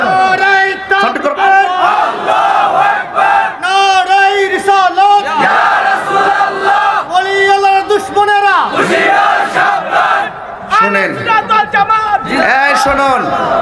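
A large crowd at a Bangladeshi Sunni religious gathering roars a takbir response in loud, repeated unison shouts that swell and drop in waves throughout.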